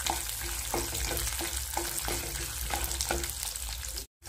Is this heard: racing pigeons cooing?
no